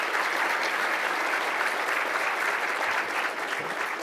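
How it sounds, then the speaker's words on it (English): An audience at a city business awards ceremony claps steadily throughout, a dense, even wash of applause that barely fades over the few seconds. "Let's give them a round of applause."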